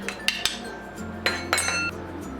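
A spoon taps and clinks against a metal pan while spice powders are mixed into oil for beef pickle, a few sharp close metallic strikes spaced irregularly over a low steady hum.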